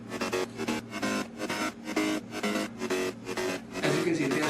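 A thick, growling progressive house synth mid bass made in FL Studio pulses in a steady rhythmic pattern, its tone swelling and dipping as a filter sweeps, loud and upfront with no talking.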